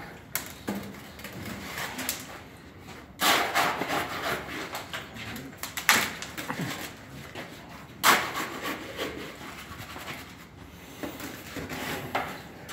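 Concrete is scooped and scraped into a test mold for the second layer, with a few sharp gritty scraping bursts over quieter rubbing and shuffling, all close and fairly soft.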